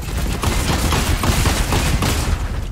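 Rapid bursts of video game gunfire, including shotgun shots, crackle continuously, dense and loud, like a fast exchange of shots with little pause.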